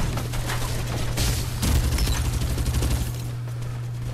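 VSS rifle fire in Farlight 84, a dense run of rapid shots and impacts over a steady low hum of game sound, loud and continuous for a few seconds before easing off.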